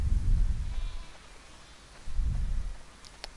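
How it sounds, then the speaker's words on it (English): A flock of sheep in the video game The Last of Us Part II bleats in low, rough bursts, two calls separated by a pause, moderately loud over a faint ambient background, with no speech. "Wow, that's a lot of sheep."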